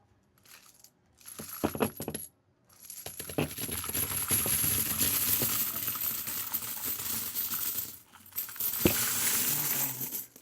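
Coins saved from a small store clink and jingle as they are poured out and counted, with bursts of rattling and metallic clatter, short pauses between pours, and a steady close cascade of tumbling change.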